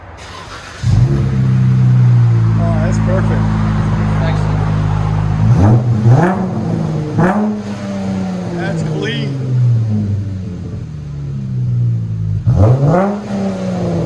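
A 2016 Dodge Challenger 3.6L V6 engine with Magnaflow mufflers idles low, then revs hard several times with a deep, throaty exhaust note reaching about 102 decibels, close by; a person speaks briefly between revs.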